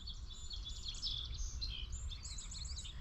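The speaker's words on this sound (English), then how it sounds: "It's a little merganser chick." A newly hatched hooded merganser duckling chirps in a rapid series of thin, high peeps, faint and close against a low background hum.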